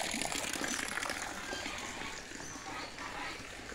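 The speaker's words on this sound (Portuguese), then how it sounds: "Ela tem um lago e cai água aqui, ó. 24 horas por dia." Water pours continuously into a small pond on a rural farm property, a steady, soft splashing and gushing that runs without pause, heard fairly quietly from nearby.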